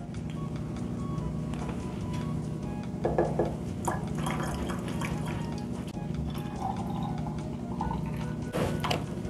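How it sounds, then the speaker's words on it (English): THC-infused vodka is poured back into its bottle, a steady liquid trickle with a few splashy bursts over a constant background hum, with no voices. "So just pour it in back into your bottle and that's it."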